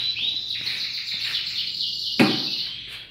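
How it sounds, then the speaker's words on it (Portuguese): Small caged songbirds at feeding time in Fortaleza, Brazil, giving a run of high, thin chirps and short whistled calls close by, broken by a sharp knock, with no talking. "mostrando para vocês como alimentar os pássaros"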